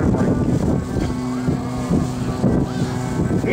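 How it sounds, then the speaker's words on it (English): Loud, steady engine drone from an Extra 300 aerobatic airplane with a 300-horsepower American-built engine, flying at the 2011 Fort Worth Alliance Airshow; the pitch rises and falls in sweeping waves against wind noise, with no talking. "Now let's take you back in time with Mr. Jan Collmer, the FINA sponsored Extra 300."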